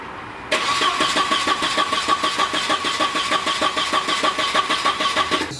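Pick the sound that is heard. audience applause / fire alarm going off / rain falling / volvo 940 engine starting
volvo 940 engine starting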